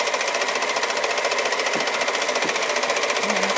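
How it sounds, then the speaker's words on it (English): A serger overlock machine stitches a seam in blue fabric for a sleeved top, a fast steady mechanical chatter running close and continuous, with a couple of short pauses in the rhythm. "I'll just use the serger and keep it pushing"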